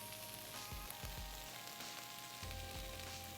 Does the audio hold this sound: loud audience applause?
no